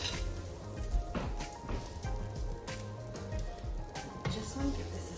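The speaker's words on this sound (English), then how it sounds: "I'm using coconut oil again to fry my egg or eggs." Eggs fry in coconut oil in a pan, a soft, continuous crackling sizzle with scattered pops and faint clinks, fairly quiet and close.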